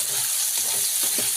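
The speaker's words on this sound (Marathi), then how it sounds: "चांगलं भाजून घेऊया तेलावर।" A spice mixture of garam masala, coriander powder, turmeric and salt fries in hot oil for katwada, a steady close sizzle with soft stirring scrapes, alone and with no talk.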